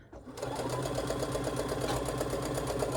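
Close, steady whir of a sewing machine stitching across a fabric project bag, starting after a brief moment and running continuously at an even rapid pace.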